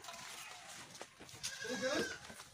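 A goat bleats near the end with a wavering, nasal cry following a few faint rustles, fairly close but quiet in a rural setting.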